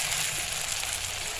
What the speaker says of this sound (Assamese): হাঁহৰ ভাজি